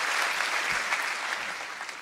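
Crowd of students at Harvard applauding and cheering for Chancellor Angela Merkel, a dense steady wash of clapping that slowly fades toward the end.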